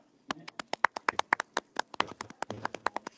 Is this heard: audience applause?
yes